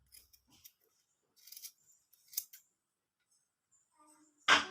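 Scissors cut woolen thread during a craft project, a few faint, quiet snips spaced apart in near silence, with one sharper, louder cut at the end.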